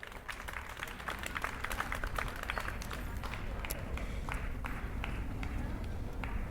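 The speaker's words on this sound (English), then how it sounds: "Clap if I can hear you if you're registered to vote." Audience at a Constitution Day gathering clapping, a faint, distant wash of scattered hand claps building after the first second and continuing steadily to the end.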